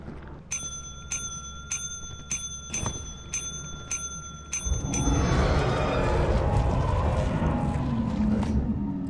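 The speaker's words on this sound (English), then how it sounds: "I'm pressing bell again, guys." A bell in Lethal Company is pressed repeatedly, giving seven or eight bright, evenly spaced metallic dings. They are followed by a dense, loud wash of rumbling game noise that swamps the rest.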